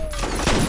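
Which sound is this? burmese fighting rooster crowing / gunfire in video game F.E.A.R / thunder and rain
gunfire in video game F.E.A.R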